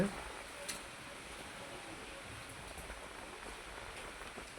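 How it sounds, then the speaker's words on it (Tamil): Heavy rain falling steadily on a home garden's plants, including an avocado tree, a continuous soft hiss at moderate level, with a voice speaking over it. "நல்லா ஜோராக மழை பெஞ்சுதுங்க"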